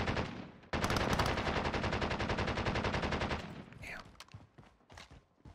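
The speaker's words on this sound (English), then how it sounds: "Yeah, that LMG, man." Light machine gun in the Warzone video game fires a long, dense sustained burst at close range, then breaks off into scattered single shots and game sounds.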